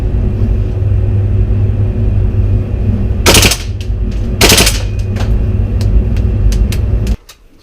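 A gas-powered airsoft gun fires two short, loud bursts a second apart, sharp rapid cracks over a steady indoor rumble in an airsoft shop, followed by a few fainter clicks before the background cuts off.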